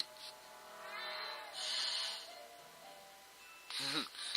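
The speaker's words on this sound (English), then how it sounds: "Cat did not want you to be touching her bowl." A cat meows over its food bowl in a video game, giving a few short, faint meows with a pause between them, followed by a sharper, louder cry near the end; a voice speaks over part of it.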